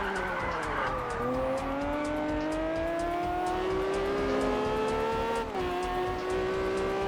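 Lamborghini revving and shifting through gears in the racing game Test Drive Unlimited, its engine pitch climbing steadily with a couple of gear changes, loud and continuous with tire noise underneath.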